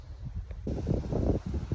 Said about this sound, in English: Sorry, a little bit windy today.